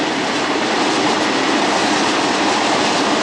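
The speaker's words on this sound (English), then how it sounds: "There goes the train." A train rolls past at close range in Belém, Lisbon, a loud, steady roar of wheels and rail clatter that holds for the whole stretch with no voices over it.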